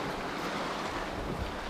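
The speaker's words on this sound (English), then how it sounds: "I think the waves have been splashing up." Sea surf at a seaside town seafront wash in a steady broadband roar with wind buffeting the microphone, a continuous moderately loud rush with no talking.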